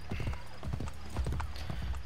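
Rapid clip-clopping horse hoofbeats from the video game Assassin's Creed Brotherhood, close and clear, in an uneven galloping rhythm with a low thudding body.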